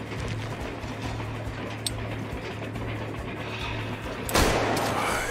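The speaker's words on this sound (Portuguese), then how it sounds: "O Jim pode vir aqui dar uns tiros." Gunfire in the video game Hard West 2: a burst of shots lands near the end over a steady low game hum, with a single sharper crack earlier and no voices.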